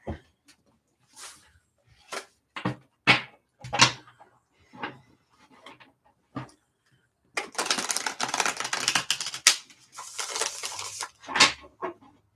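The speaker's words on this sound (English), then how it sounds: "I love to shuffle cards. It's so relaxing and soothing" Playing cards are handled and shuffled: scattered crisp snaps and taps, then a longer riffling flutter, then more quick snaps, all close by.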